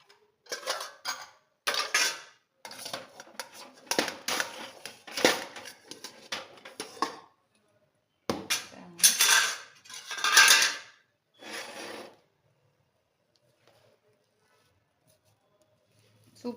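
Clattering and tapping of pots, lid and utensils as a pressure cooker is opened after cooking rice for Thiruvadhirai kali, in bursts of close, moderately loud handling noise that stops near the end.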